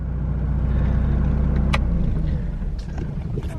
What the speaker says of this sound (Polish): Na jeden obrót odpala.